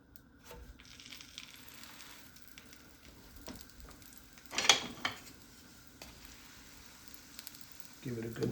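Beef tallow melting and sizzling in a hot pan, a soft steady frying hiss with occasional clinks and scrapes of a utensil against the pan, a louder burst in the middle and a voice speaking briefly.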